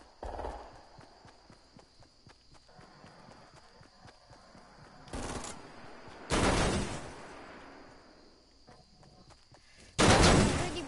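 Gunfire in the video game Fortnite, three loud broadband bursts, each about a second long. The bursts are spread across the clip over a busy background of softer game sounds and footsteps.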